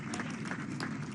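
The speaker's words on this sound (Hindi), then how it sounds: "एक बार जोरदार ताली बजाइए यामिनी के लिए" Brief, faint applause from an audience at a sailing championship closing ceremony honoring a judo athlete, a soft wash of clapping.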